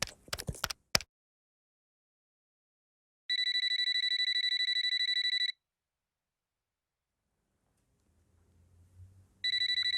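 A telephone rings in two bursts of an electronic, buzzing ring, loud and alone. The rings are separated by silence, with brief clattering before them and low rumbling just ahead of the second burst.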